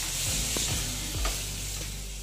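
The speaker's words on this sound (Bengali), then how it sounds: "ভেজে নিচ্ছি ভালো মতো।" Soya chunks frying with turmeric in a pan, a dense steady sizzle of hot oil with a few stirring scrapes and thumps, close and moderately loud, no voices.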